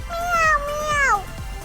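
A voice imitates a cat's meow, with two drawn-out, wavering mews in quick succession, close and clear.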